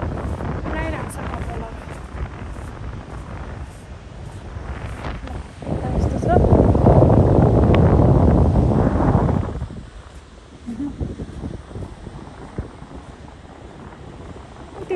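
Strong gusting wind buffets the microphone outdoors on a cold early-morning walk, building to a loud roaring surge midway before easing back to a steady rush.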